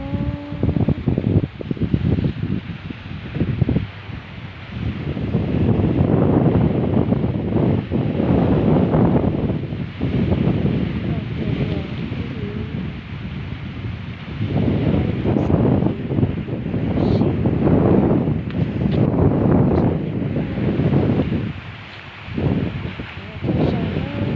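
Wind blows hard by the sea, roaring and buffeting the microphone in long gusts with a surf-like rush beneath. Voices come through intermittently.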